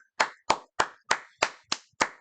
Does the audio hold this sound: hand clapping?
yes